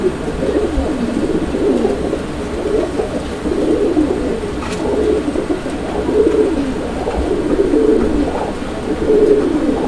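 Pigeons, including Lahori birds, coo repeatedly in a close, steady series of soft rolling calls, with no talk.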